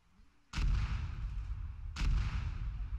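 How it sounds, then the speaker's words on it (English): Mortar fire in a military video game: two heavy, booming thumps about a second and a half apart, each followed by a long rumbling tail, loud and fairly close. "Got mortar fire coming out."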